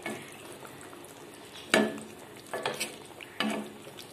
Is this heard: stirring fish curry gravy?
yes